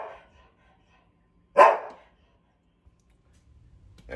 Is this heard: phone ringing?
no